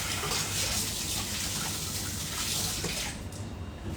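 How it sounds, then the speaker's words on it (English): Tap water runs steadily as hands are washed at a kitchen sink, a close, even splashing rush that thins out abruptly near the end. "Let me just wash my hands once."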